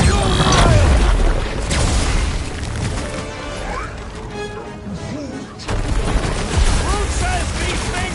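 Rocket's gunfire and explosions from Guardians of the Galaxy on PS5 sound as loud, chaotic booms and crashes under busy combat noise, with heavy blasts at the start and again near the end.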